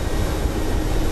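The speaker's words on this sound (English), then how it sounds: "Very powerful helicopter, of course." Mi-24 Hind helicopter engine in a flight simulator game, a loud, steady turbine roar with rotor thrum, continuous and close with no voices.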